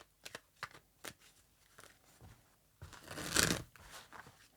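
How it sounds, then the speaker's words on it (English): Tarot cards riffle and slap close to the mic in a series of quick shuffling bursts, building to a denser flurry near the end; nobody speaks. "Let's do one more shuffle."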